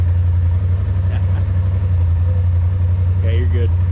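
A 2023 Polaris RZR Turbo R side-by-side with 35-inch tires idles at a close, steady low rumble that holds even throughout, while people talk briefly over it.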